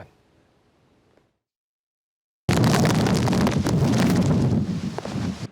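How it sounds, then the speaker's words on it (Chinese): After a quiet pause, heavy typhoon-season wind suddenly roars across the microphone with rain in Kaohsiung, Taiwan, a loud, buffeting, continuous rush that fluctuates in strength. "却拄着大风大雨，连走路拢有困难"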